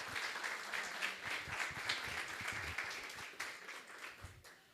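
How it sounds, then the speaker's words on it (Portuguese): A church congregation applauds in a steady, fairly distant patter of many hands, continuous and even for several seconds without speech over it. "Vamos aplaudir ao Senhor mais uma vez?"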